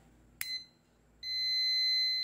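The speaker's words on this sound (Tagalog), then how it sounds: "Maririnig ninyo, nagkakaroon siya ng buzzer." A click, then a short electronic beep from an electronic tester checking a switch, followed after a pause by a steady high-pitched buzzer tone that holds to the end.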